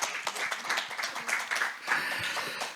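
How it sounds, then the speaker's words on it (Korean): Scattered audience clapping for former and new association presidents at a separated-families day event, moderately quiet with individual claps audible in a loose, uneven rhythm. "다시 한번 박수 쳐드리겠습니다."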